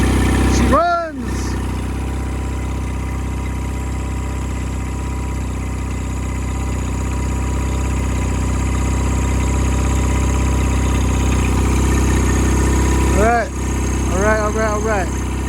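A Mercury 9.9 hp outboard motor, newly fitted with a replacement carburetor, runs at a steady, loud idle with a constant drone that continues throughout, and brief voice-like sounds rise over it near the start and end.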